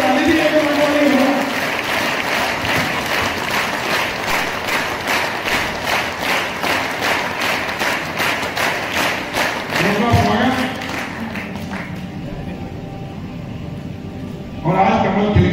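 Crowd at a political rally in Harda clapping in a steady, rhythmic unison beat for several seconds, then fading as voices and crowd noise take over.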